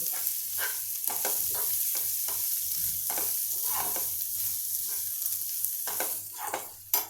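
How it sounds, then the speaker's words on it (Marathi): Chutney sautéing in a pan, a continuous close sizzle with rhythmic stirring scrapes every half second or so, ending in a louder clatter; no one speaks. "आता हे छान परतलं जाऊ देत याच्यावर"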